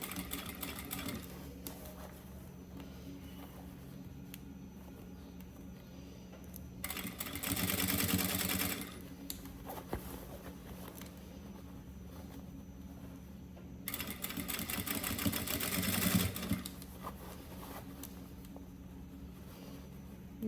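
Sewing machine stitching fabric for a bag organizer, heard in two short bursts of running stitches separated by quieter stretches of low hum and handling.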